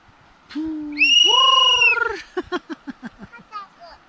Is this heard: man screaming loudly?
no